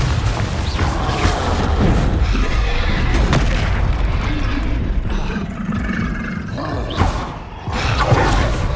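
Confringo spell blasts in the Hogwarts Legacy video game go off as repeated loud booms and thuds over a dense, roaring combat din, with several sharp impacts close together.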